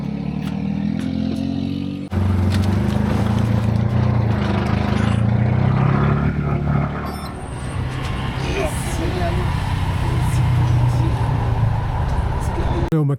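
A small buggy's engine drones loud and close near Mazatlán, Mexico, rising in pitch as it pulls away with rattling clatter, then settling into a steady running hum.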